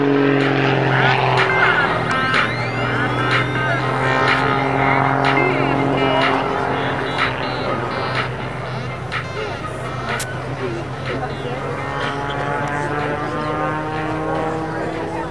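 Skip Stewart's aerobatic propeller plane drones loudly along the show line at an air show in Janesville, Wisconsin, its engine pitch sliding up and down as it passes, under a commentator's continuous talk.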